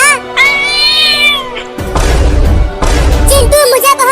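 A cat meows in long, wavering cries, close and loud and alone at first, then gives way to heavy, noisy bursts of scuffling and clatter.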